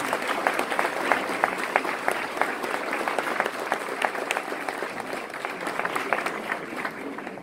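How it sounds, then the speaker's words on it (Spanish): A concert audience applauds the orchestra director, giving steady, dense clapping from a large crowd that holds even throughout. "Un aplauso para él, por favor."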